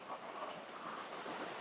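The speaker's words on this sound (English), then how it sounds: "It's really nice that we have this waterfall here." Waterfall beside a forest trail near Lost Gorge, New Hampshire, a faint, steady wash of falling water with a soft, even hiss and no breaks.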